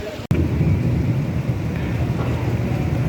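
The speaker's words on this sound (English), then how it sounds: "You can hear the thunder." Thunder from a desert storm with rain and lightning rolls as a continuous deep rumble, loud and sustained for several seconds after a brief sharp start.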